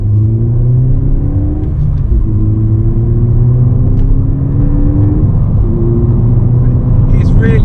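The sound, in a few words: modified Ford Fiesta ST180 engine during gear changes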